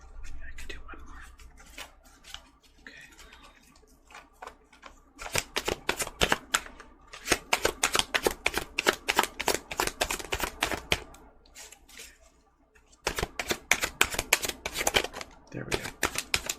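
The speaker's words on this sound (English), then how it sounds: "Let me shuffle these again." Tarot cards being shuffled and riffled by hand in repeated close, crisp bursts, with brief pauses between rounds and quiet soft rustling at the start; no speech over the shuffling.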